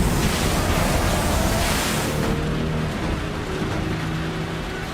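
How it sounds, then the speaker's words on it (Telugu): A strong wind roars as a film sound effect, a loud, continuous, rumbling gust with a hiss that eases slightly partway through, and no voices over it. "గాలులు చాలా బలంగా వీస్తున్నాయి."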